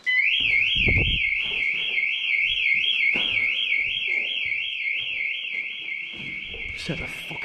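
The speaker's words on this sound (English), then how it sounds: "We may have set some alarms off" A warbling electronic alarm wails continuously and loudly while people talk and move around beneath it.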